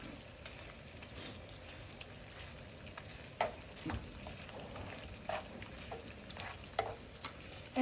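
Eggs sizzling in a frying pan give a soft, steady crackle, with occasional louder pops and taps from stirring or a utensil against the pan.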